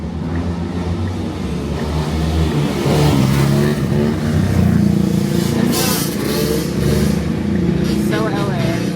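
Vehicles, including 4Runners, ride down a Los Angeles street doing wheelies, their engines revving and droning loudly and continuously, with voices in the background throughout.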